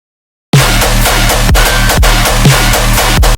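A thick, deep, wide snare in a tearout dubstep track cracks hard at a steady pace, loud and up front over a dense, grinding bass layer.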